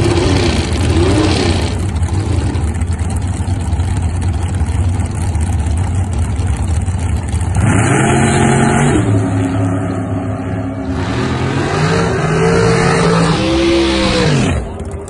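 A super comp drag racing car in Las Vegas revs its engine loudly and close, with rising and falling harmonic sweeps repeating over a continuous mechanical roar.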